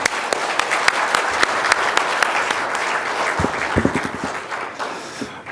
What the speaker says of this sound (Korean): 유호열 수석부회장님을 큰 박수로 맞아주시기 바랍니다.